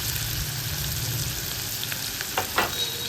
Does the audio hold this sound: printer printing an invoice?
no